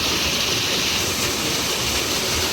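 A waterfall pouring into a rock pool, a loud, continuous, dense roar of falling water heard close and alone.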